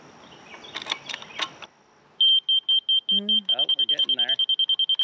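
A laser receiver on a grade rod beeps in a rapid regular series, loud and close, at a dirt grading job, after brief talk and an earlier pause.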